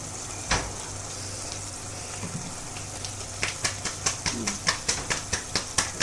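Tomato pieces drop into a hot frying pan with a sharp hiss over a steady sizzle, followed by a quick series of rhythmic clacks as a spoon taps the pan while stirring.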